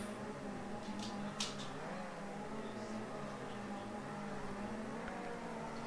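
An ARC Camaro race car engine in a sim racing game idles and hums with rising revs, a steady droning tone with a few brief high whines over it.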